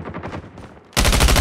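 Automatic gunfire in the mobile shooter Call of Duty Mobile: after a quieter stretch, a loud, rapid burst of shots erupts and continues close and dense to the end.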